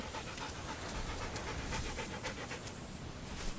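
A wild dingo panting in the Australian bush, a quick steady rhythm of faint breathy huffs, close and continuous with no other sounds.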